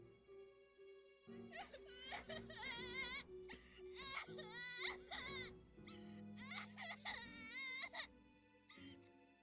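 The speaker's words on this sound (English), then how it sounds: "The sound of Yua's anguish filled the room, a heartbreaking wail that cut through the air." Yua, a character in the visual novel Hydrangea, crying: repeated wavering, high-pitched sobbing wails in bursts with short gasping pauses, heard over soft background music.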